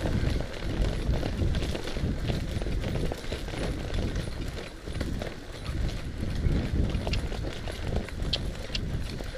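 A horse trots in a steady clip-clop rhythm through a loosening-up flexion and bending session under saddle, hoofbeats continuous and fairly close, with wind noise over the microphone.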